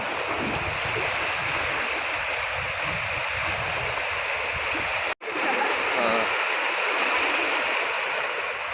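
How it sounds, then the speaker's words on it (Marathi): Sea waves at Ladghar beach on the Konkan coast during a dolphin release, a steady loud rushing wash of surf that continues without pause apart from a brief cut partway through. "तिथे विलास मयेकर आपल्या साथीदारांना घेऊन या डॉल्फिनला पाण्यात सोडण्याचा त्यांचा प्रयत्न चालू आहे"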